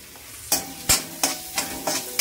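Onion fries in a pan with crushed garlic, a low steady sizzle broken by five evenly spaced, close spatula scrapes, with no voices.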